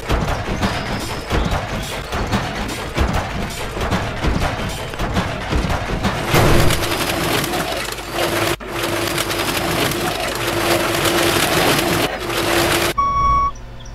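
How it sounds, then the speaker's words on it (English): Car crusher in the video game Junkyard Simulator 2024 grinding an unevenly dropped block, a loud, rough crunching and splintering roar that builds and shifts in steady stretches before cutting off abruptly. "That didn't drop in nice and flat, which is why it made that weird grindy noise."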